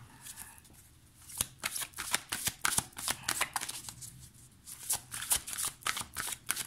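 Tarot cards (angel tarot deck) are shuffled close up in a quiet room: irregular crisp riffling flutters and soft slaps come in bursts, with no talking.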